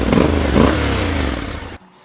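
A Honda NC750X DCT motorcycle engine and exhaust, a loud close idle with a couple of quick throttle blips that settles into a steady rumble before cutting off abruptly near the end.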